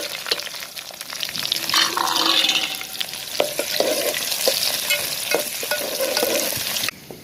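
Onion goes into a pan where garlic and curry leaves are already frying, giving a loud burst of sizzling that keeps crackling with stirring scrapes before cutting off abruptly, no speech.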